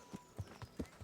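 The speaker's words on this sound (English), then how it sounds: "Oh, that's Lord Capon's horse." Horse hooves clop in the medieval video game Kingdom Come: Deliverance, five or six distinct thuds at an uneven walking pace, fairly close and moderately loud, with no voices over them.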